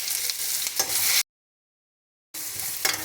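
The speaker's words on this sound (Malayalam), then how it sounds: "ഇനി അതിലേക്ക് ഈ ഉള്ളി, വെളുത്തുള്ളി, ഇഞ്ചി ഇത്രയും ചതച്ച് വെച്ചിട്ടുണ്ട്" Crushed onion, garlic and ginger sizzle loudly in hot oil with mustard seeds in a pan, a dense close crackling with stirring scrapes, broken by a brief silent gap.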